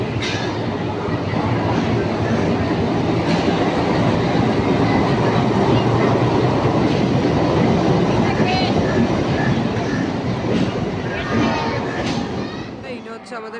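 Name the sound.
12347 Howrah–Rampurhat Sahid Express train at Howrah platform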